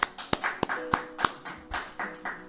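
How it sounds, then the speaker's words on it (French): Scattered clapping from a church congregation after a French-language sermon, a handful of sharp, separate claps with uneven spacing, moderately near and fairly soft overall, with no talking. "Applaudissez le Seigneur bien fort."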